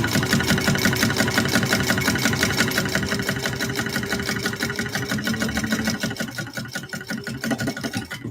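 A sewing machine basting fabric for a Victory Bowler Bag stitches in a fast, steady mechanical rhythm, close and loud, slowing slightly near the end, with no talk.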